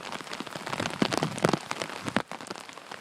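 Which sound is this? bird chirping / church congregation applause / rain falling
rain falling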